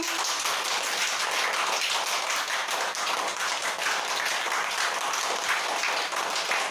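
Primary schoolchildren clap together in a classroom, a dense, continuous patter of many hands at an even pace, loud and close, with no speech over it.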